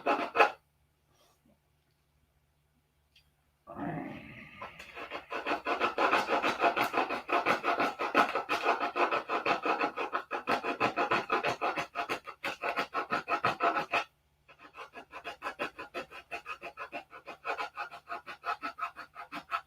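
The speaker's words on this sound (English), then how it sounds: "got different grit sandpaper glued to my fingers" Sandpaper grits glued to the fingertips rub and scratch against a P-47 model plane, a dense, rapid rasping that starts after a few quiet seconds, runs steadily, breaks briefly near the end, then resumes.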